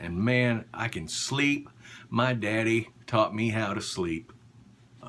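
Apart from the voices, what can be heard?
No everyday noise stands out behind the speech.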